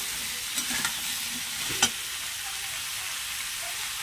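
Diced beet, potato and peas sizzle steadily in a hot pan while a spoon stirs them, with a few brief scraping clatters over the constant frying hiss.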